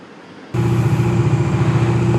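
A Bajaj Dominar motorcycle engine warming up in the early morning, starting after a brief quiet moment and then holding a steady, close, continuous idle rumble with no talking.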